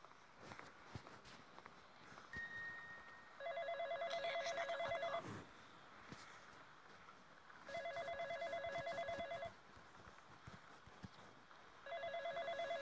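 A telephone rings in the horror video game The Dark Internet, three separate bursts of electronic trilling spaced several seconds apart over quiet ambience with soft footstep-like knocks, no talk.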